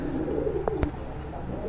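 Fancy and local pigeons in a farm loft in Kashimpur, Gazipur, coo steadily in a low, continuous murmur, with a couple of brief sharper sounds near the middle.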